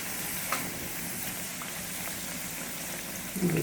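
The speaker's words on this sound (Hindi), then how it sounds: "इसी तरह हम इसमें एक और डाल देंगे और धीमी आंच पर ही हम इसको सेकेंगे" Bedmi puri frying slowly in oil on a low flame, giving a steady close hiss of bubbling oil throughout, with a small splash early and a brief louder flare near the end.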